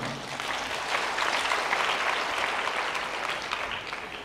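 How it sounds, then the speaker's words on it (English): A church congregation claps for Levi during a sermon on marriage, a steady, moderately loud wash of applause from a crowd that holds evenly and fades slightly at the end. "You can clap for Levi."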